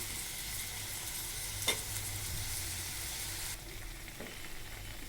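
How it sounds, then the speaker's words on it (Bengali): Shrimp and spices sizzle and fry in a pan for a seeded-banana (bichi kola) curry, a steady close hiss with a brief stirring scrape partway through and the sizzle dropping slightly softer near the end. "তো দেখেন, বিচি কলাটা আমি এভাবে কষাই নেব আগে।"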